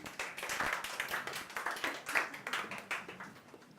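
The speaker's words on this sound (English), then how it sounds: "Give a round of applause." An audience claps for a volunteer called up at a public speaking session in Bali, a moderate round of overlapping handclaps with a few louder individual claps, heard at a modest distance.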